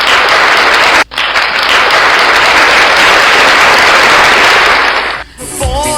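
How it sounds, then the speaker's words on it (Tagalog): A crowd at a Philippine political rally applauds loudly, a dense, roaring wall of clapping broken by one brief dip, then fading as a voice comes in at the end. "palakpak naman kayo dyan"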